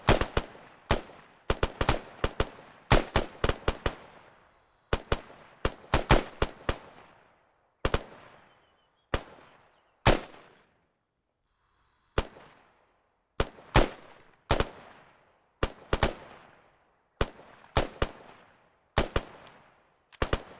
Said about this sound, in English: Shooters, you may commence fire once your targets appear.